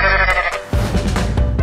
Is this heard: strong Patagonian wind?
no